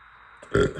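A single loud, close burp erupts after a brief quiet lead-in, swelling to a low, guttural peak and trailing off quickly.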